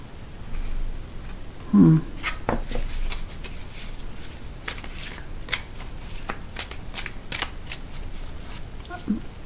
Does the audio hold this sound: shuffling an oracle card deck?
yes